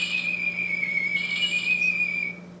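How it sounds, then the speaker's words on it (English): An eerie, high whistling tone wavers over a faint electronic hum, a thin ghostly effect from a Monster High Spectra toy doll that fades out abruptly near the end. "she has this whole ghostly sound, chains"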